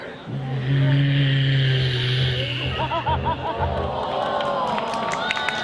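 A comedian's voice imitates a huge heavy truck rolling slowly, a low drawn-out rumbling hum held for a couple of seconds, then an audience bursts into laughter and cheering.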